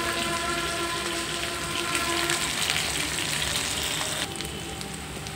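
Spices sizzling steadily in a hot pan while a masala is roasted for a raw banana fry, a dense, continuous frying hiss close up with no voices.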